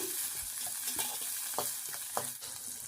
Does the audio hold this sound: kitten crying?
no